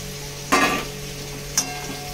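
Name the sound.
potatoes stir-fried in spice paste in a pan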